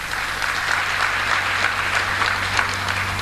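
Audience applause from a large crowd at a live event, dense and steady for about three seconds, close and fairly loud with no pauses.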